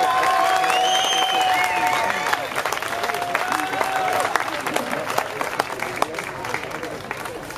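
An audience applauds at an amateur boxing match in Essen's Zollverein, a broad wash of clapping that slowly thins out while an announcer talks over it.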